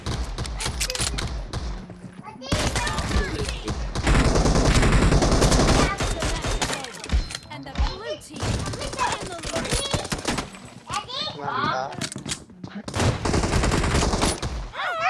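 Dense automatic gunfire rattles from a shooting video game in long loud bursts separated by short gaps, with voices talking over parts of the action.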